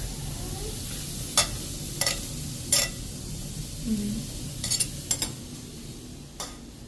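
Lentils fry in hot oil for a curry in a home kitchen, a constant loud sizzle underneath a few sharp metal clinks of a spoon stirring the pan.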